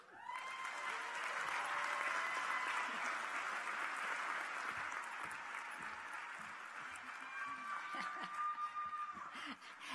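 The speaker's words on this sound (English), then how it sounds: "Let's give both of our student speakers another round of applause" Sustained applause from a large audience at a spring 2018 medical school commencement, honoring the student speakers; dense, steady clapping fills the hall throughout, tapering slightly toward the end, with scattered laughter and murmurs mixed in.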